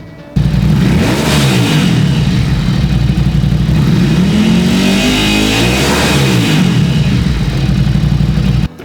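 A 2023 Ducati Scrambler with an aftermarket exhaust revs up twice with a rough, rumbling note, rising and falling in pitch, loud and close with a steady idle between.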